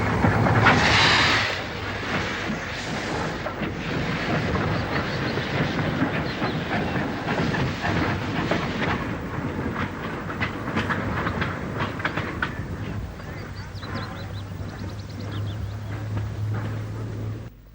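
LMS steam locomotive from the 1936 batch hauling a train along a British Railways main line, a loud continuous rumble with rhythmic wheel clatter passing close by, no voices.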